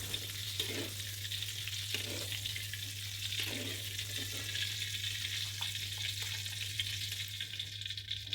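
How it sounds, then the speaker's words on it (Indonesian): Pea eggplants sizzle in hot oil in a pan, a steady frying hiss with occasional stirring scrapes, close and continuous without talk. "Lanjut, ini Mak goreng rimbang."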